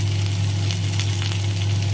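Ginger paste frying in a hot pan of oil with nigella seeds and asafoetida, giving a loud, steady sizzle with a low hum beneath it.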